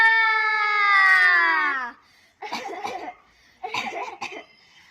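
A performer in a children's action song at a Pratibha Karanji school talent competition acts out a cough: after a long, drawn-out vocal tone, two short, loud, rough coughing bursts follow close to the microphone, likely voiced as an imitation.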